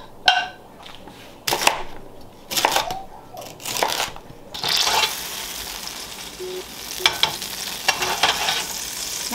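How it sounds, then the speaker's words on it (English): Butter melting and sautéing in a pan, with a soft sizzle under intermittent stirring and scraping clatters of a utensil against the pan, close by, the frying growing steadier and louder partway through. "I'm gonna get some good butter melting in a pan here. We're gonna saute some things."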